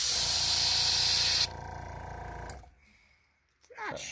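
Spray paint hisses steadily and loudly onto a fishing lure being painted in a Copper Nose Bluegill pattern, then drops to a quieter hiss and cuts off, leaving near silence before a voice briefly speaks.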